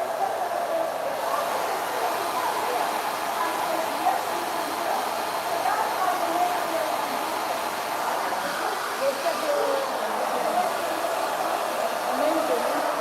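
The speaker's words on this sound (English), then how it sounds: "So put that diffuser here and go up." A hair dryer fitted with a diffuser runs steadily while drying curly hair, a constant airy roar close by that holds level throughout with slight fluctuations as it moves.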